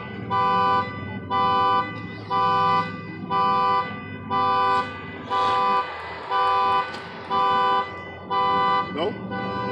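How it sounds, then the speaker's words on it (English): A car alarm honks in a steady, repeating pattern of loud, evenly spaced toots, each about half a second long, heard close by at a campsite while someone talks over it. "This jackass alarm going off"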